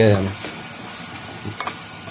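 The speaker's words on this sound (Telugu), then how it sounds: "కారం వేసాక ఇట్లా కలుపుకోవాలి, గంటతో కలుపుకోవాలి." A ladle scrapes and stirs potato curry with chili powder in a hot pan, with a soft sizzle and a few light clinks, close and moderately loud; a voice is briefly audible at the start.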